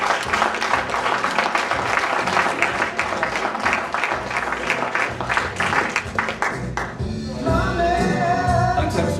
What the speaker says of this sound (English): So put your hands together and give a massive round of applause to Mr. Paul Tawn.